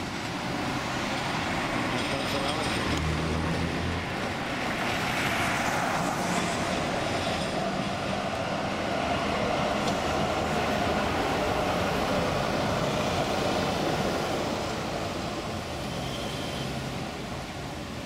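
Trams roll along a street in Basel, Switzerland, a steady low rumble of rail vehicles mixed with city traffic, continuous and moderately close, without talk.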